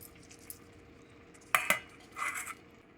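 Boiled Maggi noodles tipped into a pan, with a couple of sharp metallic clinks followed by a brief soft scraping shuffle, fairly close and quiet, no voices.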